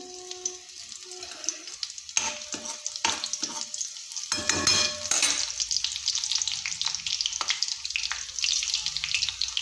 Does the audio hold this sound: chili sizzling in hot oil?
yes